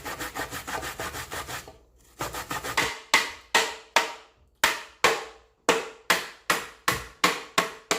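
Coconut and sweet potato are rubbed hard against a hand grater into a bowl, a close, rasping scrape in fast strokes that settle into a steady, regular rhythm of separate strokes, with no talk.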